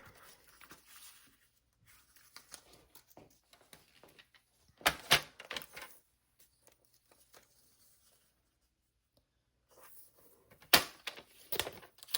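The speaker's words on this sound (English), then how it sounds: "I'm going to cut this at 6 inches" Paper being cut to size for a scrapbook layout, with two clear bursts of sharp slicing and tearing noise in a quiet room, separated by faint handling taps and rustles.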